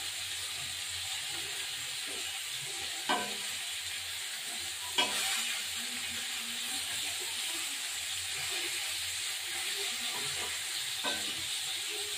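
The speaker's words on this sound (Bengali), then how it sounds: "এবার এই মাছটা ভাজা হয়ে গেল।" A fish frying in a pan gives a continuous close sizzle, broken by two sharp scraping clacks early on and a softer one later.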